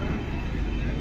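An airplane passes overhead with a steady, broad roar, and voices are heard beneath it.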